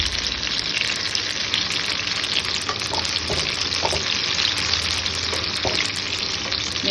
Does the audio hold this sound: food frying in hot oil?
yes